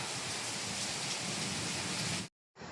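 Steady, heavy rain pours down as a dense hiss, cutting out abruptly near the end before resuming briefly.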